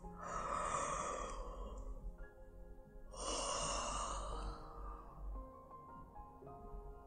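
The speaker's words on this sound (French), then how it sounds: "Viens chercher un bâillement en ouvrant, en inspirant la bouche grande ouverte." Two long, open-mouthed yawns or deep sighing breaths, slow and close, each drawn out over a couple of seconds with a quiet gap between them, during a guided body-relaxation exercise.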